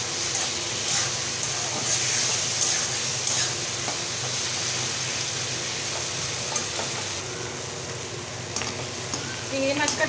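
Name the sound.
prawns frying in a pan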